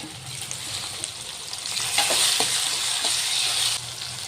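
Onions fry and sizzle in a pan while a utensil stirs them, a steady close hiss with soft scraping strokes that grows louder midway and then eases.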